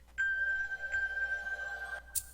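A single sustained keyboard note plays a flat, steady and fairly faint, held for about two seconds before cutting off.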